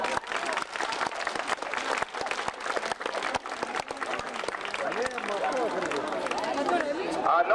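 An indoor crowd at a 1997 Schengen protest gathering applauds, with steady clapping that grows slightly toward the end, mixed with crowd chatter and voices talking over it.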